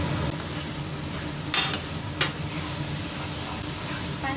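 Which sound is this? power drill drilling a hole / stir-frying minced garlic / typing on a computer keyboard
stir-frying minced garlic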